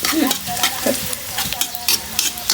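Garlic sizzles in a hot pan while a utensil stirs and scrapes against the metal, a loud, close, continuous frying hiss with brief clinks.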